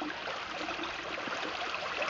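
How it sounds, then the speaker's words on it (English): A babbling brook with little waterfalls runs at a farm in spring, a steady broadband rush and trickle of water with no pauses, moderately close and even, with no voices. "talk about the babbling brook, this is what you've got. Little waterfalls here and there"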